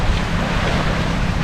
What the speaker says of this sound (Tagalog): Yan ang dagat dito ngayon. Kalmada oh.